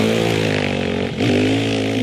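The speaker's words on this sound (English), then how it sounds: "Dirt bike." A dirt bike engine holds a steady, buzzing drone close by, dipping briefly before its pitch climbs again.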